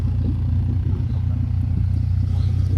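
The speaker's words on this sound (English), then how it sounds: "And the idle ain't too bad on that exhaust, to be fair." A Yamaha WR125R motorcycle with a new exhaust idles steadily up close, a low throbbing burble with slight irregular pulses and no voices.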